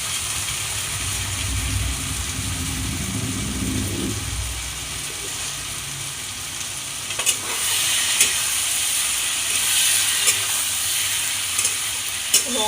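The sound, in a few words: soy sauce sizzling in frying pan for egg chili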